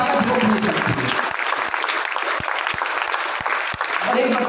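Loud crowd clapping for a student at a 2023 NEET and JEE victory celebration held by Utkarsh and PW Vidyapeeth, dense at first, then thinning into scattered sharp claps before swelling again.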